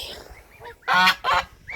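Two loud, close goose honks in quick succession, preceded by softer calls from the flock.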